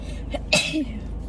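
A single sharp sneeze bursts out near the mic, followed by a short vocal sound.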